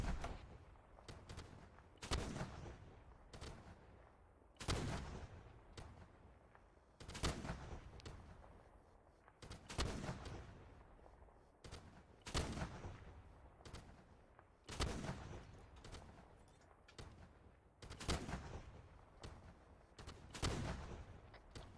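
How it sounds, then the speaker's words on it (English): Artillery rounds land in a Vietnam war video game: heavy, booming blasts repeat roughly every two to three seconds, loud and close, with rumbling decay between impacts and no talking. "First rounds are landing."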